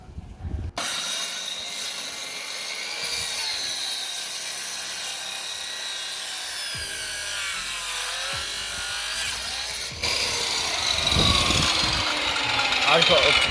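A power tool cuts wood for a DIY koi pond build, whining steadily at close range with shifting pitch, then growing louder and harsher for the last few seconds.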